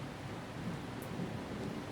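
Steady rain with a low rumble of thunder in a Bengali horror cartoon, a soft continuous wash of falling water under a faint distant roll.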